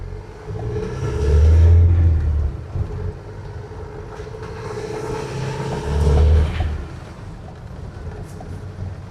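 Mahindra Thar driving off-road down a badly broken track, its engine rumbling steadily with two louder surges of acceleration, close and without talk.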